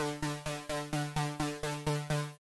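A bright, soft synth tone repeating in ten even plucked pulses, each decaying quickly before the next, then stopping cleanly.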